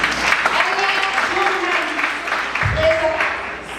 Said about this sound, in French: Madame Marie-Lucie Bonhomme, que je vous demande d'applaudir sur elle.